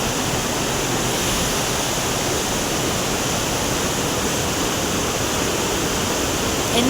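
Fast-flowing water rushes at Yamunotri, a loud, steady broadband roar of torrent or cascade that fills the whole span without pause, with no voices over it.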